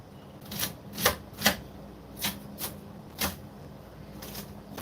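A knife chops garlic cloves into small pieces on a board, giving about nine separate crisp taps in an uneven rhythm, close by and moderately loud, with no talk.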